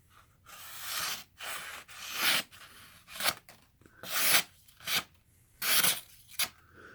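A knife blade is drawn repeatedly across a sharpener in about eight rasping strokes of uneven length, and the edge snags on a small bump in the blade, close and fairly loud with no talk.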